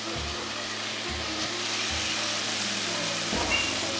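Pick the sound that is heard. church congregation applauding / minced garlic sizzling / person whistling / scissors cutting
minced garlic sizzling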